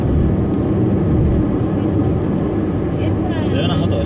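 A large motorcycle speeds along a road during a police chase, producing a loud continuous roar of engine and wind noise that stays steady throughout, with people talking over it.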